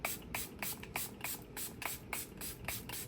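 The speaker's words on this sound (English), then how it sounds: "This is the matte finishing spritz." Repeated short hissing spritzes of an Australis matte finishing setting spray, roughly a dozen quick bursts in a steady pumping rhythm, close and fairly quiet.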